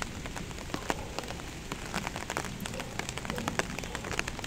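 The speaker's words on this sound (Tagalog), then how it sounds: "umuulan siya ngayon." Rain falls steadily on a rooftop garden, with many sharp, scattered drop impacts on the wet concrete over a continuous hiss, heard up close and with no talking.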